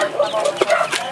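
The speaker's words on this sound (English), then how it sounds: "Here's the chickens." Chickens in a backyard pen in Bicol, Philippines, clucking in short, close bursts with a few brief accented calls over a quiet outdoor background.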